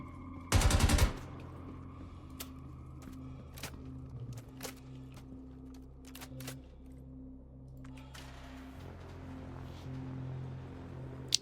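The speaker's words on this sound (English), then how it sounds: "Just firing off those 5 rounds to get rid of them" A handheld gun in the game Star Citizen fires a quick burst of five rounds, loud and close at the start. Afterwards come quiet clicks and handling sounds over a low, humming ambience.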